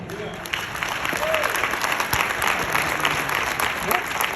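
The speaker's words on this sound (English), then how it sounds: "give a rousing applause for this amazing family" Audience applause at a brunch gathering, a dense wash of clapping rising after a brief quiet start and continuing steadily with some voices in the crowd.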